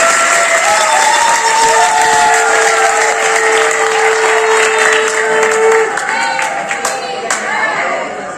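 Loud, sustained clapping from a crowd at a Jhulan Yatra celebration in Vrindavan, dense and continuous for several seconds before thinning out, with a long sung or droning tone running beneath it.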